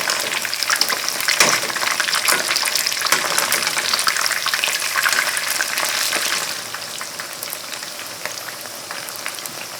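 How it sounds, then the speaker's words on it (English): Steady, loud crackling sizzle of chicken in its second deep-fry in hot oil, with dense popping bubbles that ease slightly toward the end. "Second fry, just 5 or 6 minutes until very, very crunchy."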